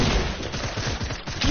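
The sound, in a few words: gunfire in a shooting video game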